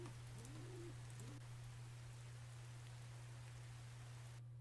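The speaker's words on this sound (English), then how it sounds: "As you can tell, you can hear rain, but you don't see it." Steady rainfall hisses softly and evenly in a Mount & Blade game scene, with a constant low hum underneath and a few faint bird chirps early on.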